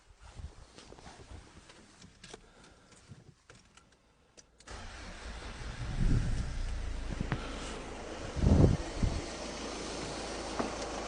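A car with a suspected glow plug fault cranks and starts after a power boost, with quiet handling noises first, then the engine catching with a loud burst and settling into a rough idle, nearby.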